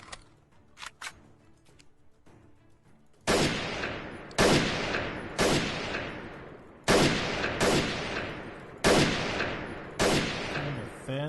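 Gunfire in the video game Escape from Tarkov: loud, close shots fired in a quick run of about seven heavy blasts, each with a long rolling tail, after a quieter stretch of faint game sounds.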